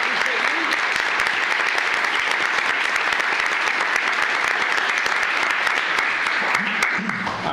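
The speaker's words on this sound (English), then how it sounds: "Let's give all of them a round of applause" A room full of people at a county commissioners court applauds employees being honoured for years of service, a loud, dense and continuous clapping that stays even for several seconds with no speech over it.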